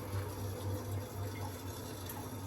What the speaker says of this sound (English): if we run this hot tap now,